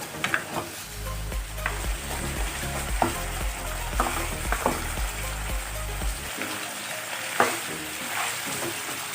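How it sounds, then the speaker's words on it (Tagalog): Beef bone-in chunks stirred with tomato paste in a pot for caldereta, a close steady sizzle with repeated scraping spoon strokes and soft knocks, no voices. "nahalo na natin yung tomato paste dito sa baka"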